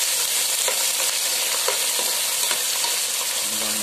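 Shrimp frying in hot oil, giving a steady close sizzle with faint stirring clicks and no talk.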